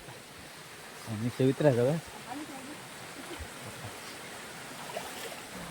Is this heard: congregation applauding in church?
no